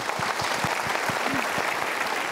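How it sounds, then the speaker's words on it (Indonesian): An audience applauds at a motivational talk show, steady dense clapping throughout with a low rhythmic thumping underneath and a faint voice briefly rising. "Kita berikan tepuk tangan dulu untuk mereka."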